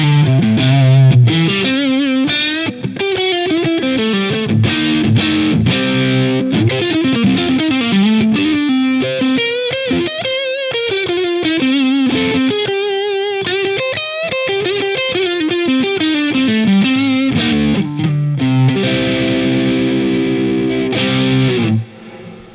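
Taylor T5z electric guitar played with overdrive distortion, running through a busy lead phrase of sustained, gritty notes and bends, loud and continuous with no voices.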